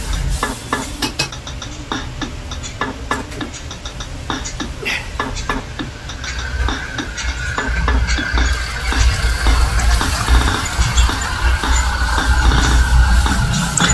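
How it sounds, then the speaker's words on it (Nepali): Meat broth poured into a pot during Newari cooking, a continuous liquid rush and bubbling with clinks and stirring knocks, loud and close, swelling stronger toward the end. "अब हामी मासुको झोल यसमा खन्याउन सक्छौँ।"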